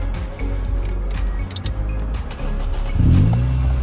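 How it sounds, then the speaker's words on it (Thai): A 2005 Toyota Vios 1.5E engine with manual gearbox runs steadily with a low rumble, then revs up louder near the end. "ขอฟังเสียงเครื่องยนต์หน่อย"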